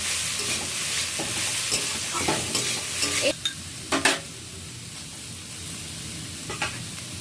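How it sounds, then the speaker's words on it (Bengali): Potatoes and tomato fry in a pan with a steady close sizzle, while a spoon stirs and scrapes in irregular clicks, quieter toward the end. "আলুটা আমার ভাজা হয়ে গেছে আলু ভাজার মধ্যেই আমি টমেটোটা দিয়ে দিয়েছিলাম"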